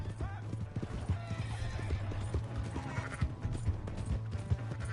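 A horse gallops with rapid clip-clop hoofbeats and whinnies loudly in the Western video game Red Dead Redemption 2, close and continuous with music and faint voices mixed underneath.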